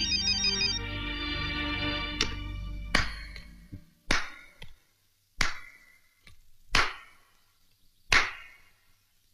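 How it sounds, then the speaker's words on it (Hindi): A mobile phone rings with a bright melodic ringtone for about two seconds, then several sharp percussive hits follow at roughly one-second intervals, each decaying quickly, with no talk. "सुनो, मेरा मोबाइल बज रहा है"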